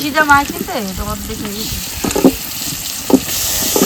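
Meat half-sautéed in a pan with onions and sugar, a loud close sizzle with clattering stirs, while a voice speaks briefly at the start.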